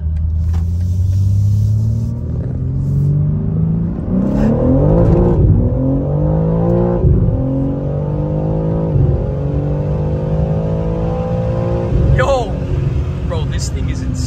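BMW G80 M3 engine roaring through a hard first gear pull, a loud close rumbling rise in revs that climbs and shifts repeatedly, with a voice speaking over it.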